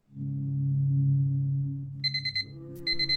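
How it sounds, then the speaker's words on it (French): A bedroom alarm clock rings in short, bright, regular bursts of beeps, two clusters separated by a brief pause, coming in after a steady low hum fades out; no voices. "il y a bien un truc que je déteste, c'est quand mon réveil sonne"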